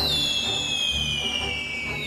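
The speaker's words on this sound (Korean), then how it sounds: "어, 대포를 쏜다." Cannon fire in an animated Peter Pan film: a bright, descending whistling tone over a continuous rumbling, crackling blast, loud and sustained for about two seconds with no talk.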